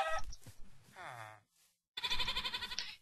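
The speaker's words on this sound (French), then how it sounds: "J'entends que des chèvres. J'entends que des biquettes." Goats bleat in a video game with a wavering, nasal cry, set among other short animal calls and bursts of noise, with a brief quiet gap in the middle.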